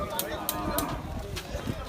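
At the Hazratpur cattle market, during the Qurbani trade, a cow gives a short moo, mixed with nearby voices and market bustle.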